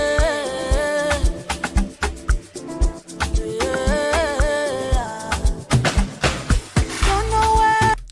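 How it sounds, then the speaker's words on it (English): Crisp snare drum hits land in a steady pattern throughout a loud, dense Afrobeats-style song with layered vocals, synth chords and bass, playing continuously without talk. "Those snares that they're using, bro, are like, they're sick."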